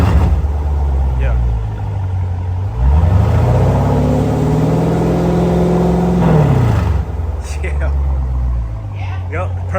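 A Dodge Challenger Scat Pack with a mid muffler and resonator delete revs once, its deep exhaust note climbing, holding and then dropping back to idle, loud and close, with voices talking alongside.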